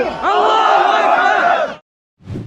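A rally crowd roused by an activist shouts in unison, a loud, sustained massed cry lasting under two seconds, then a short burst of further shouting after a silent gap.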